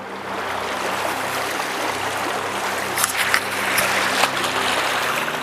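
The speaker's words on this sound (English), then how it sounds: "Now this is the River Wye, got a very sharp bend" The River Wye at a sharp bend flows steadily nearby, a continuous broadband rush of moving water with a few brief brighter splashes and trickles partway through.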